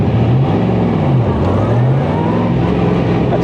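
Steady loud engine drone from a Beck Lister Corvette Lightweight breaking in a new motor while cruising, with pitch rising and falling through gear changes and faint wind noise.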